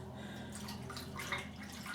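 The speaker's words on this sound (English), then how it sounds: "let me just take my cloth out of the water" Water drips and trickles softly as a wet cloth is lifted out of a basin during a face shave. The splashes are faint, close and brief, with no voice.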